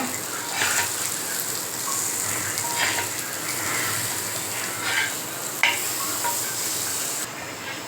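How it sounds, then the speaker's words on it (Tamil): Pieces of elephant foot yam fry in a pan over a low flame, giving a continuous hissing sizzle with scattered small crackles and pops at moderate loudness and no talk. "இது ஹை ஃப்ளேமில் வச்சு வறுக்காதீங்க லோ ஃப்ளேமே வச்சு வருங்க"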